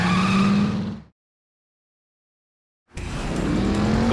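A car in Driver San Francisco roars close and loud, engine straining with tire squeal, then cuts to a silent gap before the engine noise returns at full strength.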